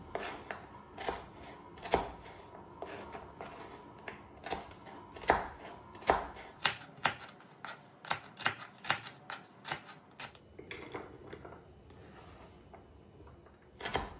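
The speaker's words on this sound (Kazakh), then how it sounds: "Оны тым ұсақтамай, тура осылай турап аламын." A knife chops carrot on a board in a series of sharp, separate knocks, sparse at first and then faster and more regular. The sound is close, with no talk, and fades to quieter taps at the end.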